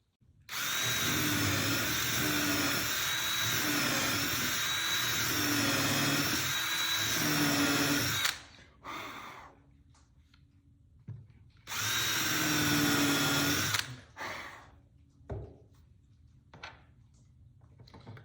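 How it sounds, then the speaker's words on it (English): A power drill whines loudly in two long bursts, drilling pilot holes to attach a wooden transom knee to a boat transom, with quieter pauses and small handling sounds between them, close to the microphone. "drill some pilot holes in there"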